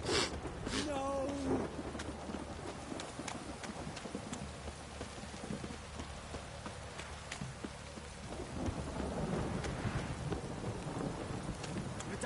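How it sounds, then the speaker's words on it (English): Rain pours steadily with rolling thunder in The Witcher 3, a dense wet hiss under low rumbles, with a voice speaking briefly near the start. "If it don't stop raining, my arse will rot off."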